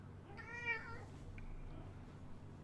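A house cat gives one clear, drawn-out meow close by, then stays quiet apart from a faint short chirp afterward, over a low steady background hum from a retro game session.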